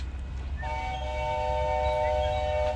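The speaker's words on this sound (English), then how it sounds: "Choo-choo." A tourist train at the Dole pineapple plantation in Hawaii rumbles past close by with a low heavy roar, and its horn sounds a sustained chord partway through.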